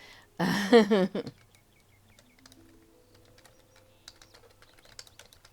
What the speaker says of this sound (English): while I'm trying to type